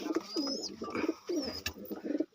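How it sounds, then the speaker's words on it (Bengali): Several pigeons cooing close by, soft repeated throaty coos in quick overlapping bursts over a quiet background. "এই এতগুলো যে পায়রা দেখাচ্ছি আমি"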